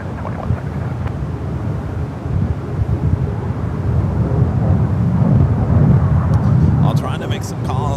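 United airliner taking off from runway 28 left at SFO, a deep, rising roar that builds and swells under radio chatter, with clicks and beeps from the transmission near the end.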